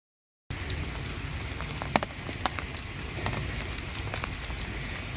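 Steady rain falls on a wet day at an estate fishing lake, a close, continuous patter with scattered sharper drops and one louder splash near the start.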